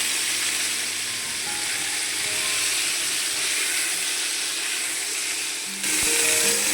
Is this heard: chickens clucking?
no